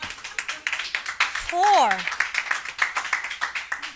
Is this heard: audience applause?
yes